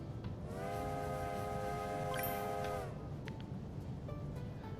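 A train whistle from the video game A Bumpy Ride blows one long, steady, loud tone with stacked harmonics for about two and a half seconds, then cuts off, leaving a rumbling background.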